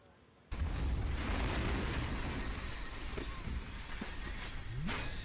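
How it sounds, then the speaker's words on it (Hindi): An explosion sound effect for the 1993 Mumbai serial bomb blasts bursts in suddenly after half a second of quiet, then rolls on as a loud, sustained, rumbling roar of debris and noise. "पूरे 12 धमाके हुए।"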